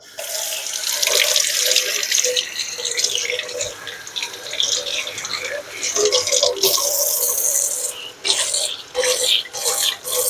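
A kitchen tap runs steadily as hands are rinsed beneath it, the splashing water loud and close with brief breaks and shifts in the flow.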